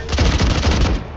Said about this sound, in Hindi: दो चार गोली चला दो फेक करके